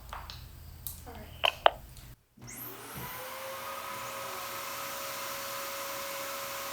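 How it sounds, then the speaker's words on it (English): Two vacuum cleaners switched on together as the load in an inverter endurance test, starting after a few clicks and a brief silence and then running as a loud, steady, continuous whine and rush. "go ahead and turn on 2 vacuum cleaners, please"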